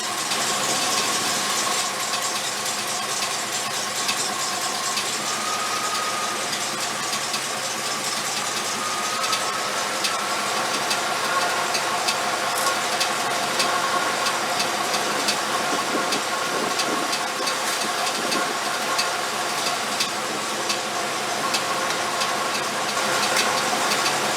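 A 1989 Chevrolet GM TBI engine idles during ignition timing adjustment with a steady mechanical rumble and light rhythmic ticking, continuous and moderately close, with no voices.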